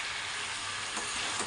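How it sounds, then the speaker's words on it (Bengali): Vegetarian pumpkin curry cooking in a pan gives a continuous close hiss of sizzling, with a faint clink or two of stirring and no voices. "কুমড়ার তরকারি চাপাইছি, একদম নিরামিষ"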